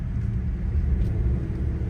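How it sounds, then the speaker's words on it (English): Steady low road rumble from inside a car rounding a traffic circle on freshly repaved, smooth pavement in Binghamton, NY, a continuous even drone with no voices. "Going around the traffic circle now."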